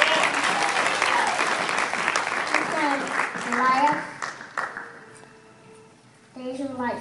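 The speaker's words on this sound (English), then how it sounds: "Clap your hands unto the Lord as he comes." A church congregation claps along during worship as a preacher comes up, loud and steady under singing and talk, then thins into a quieter stretch before voices return.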